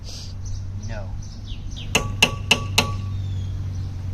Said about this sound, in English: Why did you hammer it?